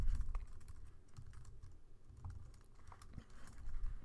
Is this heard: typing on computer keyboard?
yes